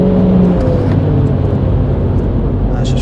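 A MINI GP3 driven hard on the Donington race track, heard as a loud, continuous engine drone from inside the car with a steady hum and no distinct gear changes.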